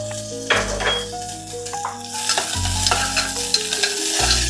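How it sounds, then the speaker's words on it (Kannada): Green chillies and curry leaves fry in a pan with a bright, crackling sizzle and repeated stirring scrapes against the metal, close and loud, with music playing underneath. "ಈಗ ಗ್ರೀನ್ ಚಿಲ್ಲಿ ಮತ್ತು ಕರ್ಬೇವಿನ ಸೊಪ್ಪು ಹಾಕ್ತದೆ ನೋಡಿ"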